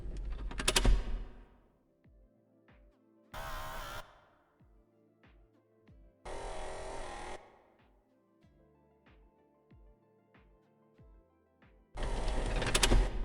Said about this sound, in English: I've added some shifter and brake sounds to imitate the rattling parts of the MECH during the walking.